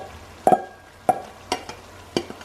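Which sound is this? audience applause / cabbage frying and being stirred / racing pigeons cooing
cabbage frying and being stirred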